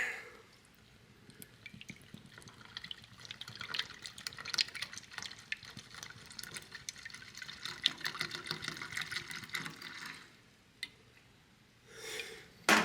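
Clean water runs and splashes steadily into a container for a homebrew yeast starter, a continuous pouring wash with small drips that stops near the end, with no talking.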